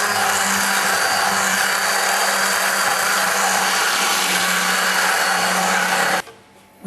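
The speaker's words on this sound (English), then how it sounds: "We just use a mixer to make it really smooth." An electric mixer whirs loudly and steadily through flour and water batter for farinata, a dense continuous motor drone that cuts off abruptly near the end.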